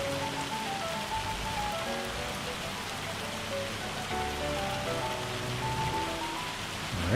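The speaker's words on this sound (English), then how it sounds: "I like that the hail is in the game." Hail and rain pelting down in a farming video game, a dense steady patter that carries on for several seconds, with faint tonal game music running underneath and no one talking.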